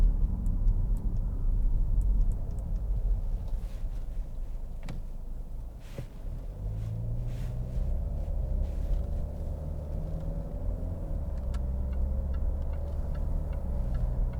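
A 2013 Jaguar XF 2.2 TD diesel saloon cruising on the motorway, heard from inside: steady low road and engine rumble with tyre hiss, a brief dip in the middle, and faint ticking clicks over the drone.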